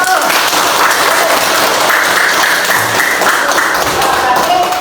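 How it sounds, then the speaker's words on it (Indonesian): Applause in a classroom as students clap together after a lesson on the respiratory organs, a dense steady patter of many hands filling the room at close range, with some voices mixed in. "Tepuk tangan."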